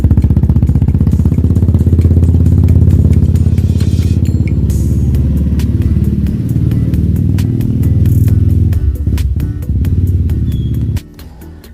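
Motorcycle engine running steadily and loud for about eleven seconds, a dense low rumble with clattering mechanical ticks, then dropping sharply to a quieter idle at the end.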